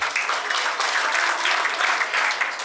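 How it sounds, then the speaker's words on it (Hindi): Audience applause after a Hindi stage drama, Premchand's Ghaswali, at a Premchand Jayanti theatre event: a steady, moderately loud wash of clapping that holds evenly throughout without voices. "एक बार जोरदार तालियों से अभिनंदन करें।"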